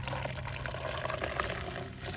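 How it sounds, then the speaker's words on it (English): Antifreeze pours steadily and continuously into a pool skimmer close by, a soft even gushing with no breaks and no voices. "I'm going to go ahead back to the skimmer here and pour some antifreeze"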